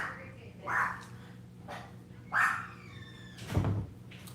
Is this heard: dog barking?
yes